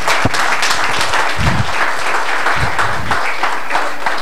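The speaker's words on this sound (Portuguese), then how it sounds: "Aplausos" A congregation at a church service breaks into sustained applause, the clapping dense and loud throughout, with a few low thumps and bursts of voices mixed into the noise.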